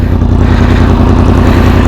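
A motorcycle engine runs loud and close with a throbbing, even idle and a slight rise in revs, with no talking over it.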